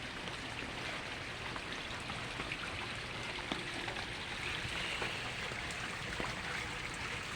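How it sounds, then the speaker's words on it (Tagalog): Steady broadband rush of a weakening stream of flowing water on a rainy day, running continuously, with occasional faint drips and splashes and no voices. "Humina na yung tubig oh, yung agos."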